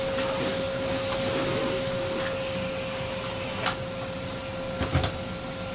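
A refurbished Karcher T9/1Bp backpack vacuum cleaner runs at a steady, close roar with a constant high whine, and a few faint knocks and bumps sound as the floor tool works over a mat.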